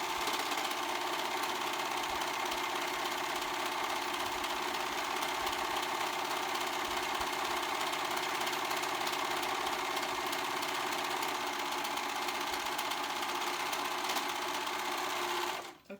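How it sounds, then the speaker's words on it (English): A serger runs continuously while finishing fabric edges, a fast, even mechanical whir held at a steady pace for about fifteen seconds before stopping abruptly, close and alone. "I'm going to go ahead and finish them up with my serger"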